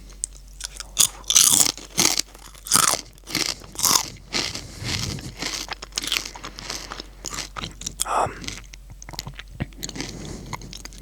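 Close-up crunchy chewing of broccoli and carrots with a smoked salmon dinner, loud crisp bites and munching in irregular bursts with quiet pauses between, no talking.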